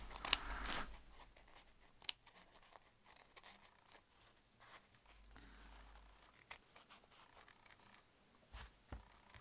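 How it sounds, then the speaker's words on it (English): Scissors snip quietly at the excess edge of a doily, a series of soft, irregular cuts and paper rustles close by, with no talking. "I'm going to turn this around just to cut the excess off"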